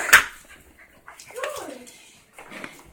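A dog whimpers and gives soft yips after playing with a tennis ball, thin high whines in short bursts near the listener, with a person speaking between them.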